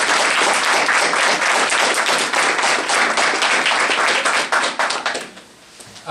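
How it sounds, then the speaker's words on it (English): An evening event audience at a film screening and panel gives the host foundation a big round of applause, a loud, steady wash of many clapping hands that fades out and falls to near silence near the end. "give the foundation, our host this evening, a big round of applause"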